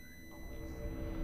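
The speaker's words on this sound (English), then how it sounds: "My ears are ringing." A thin, steady high-pitched ringing tone plays as an ear-ringing effect in the video game Call of Cthulhu after a gong is struck. It is faint and continuous, with a low murmur underneath.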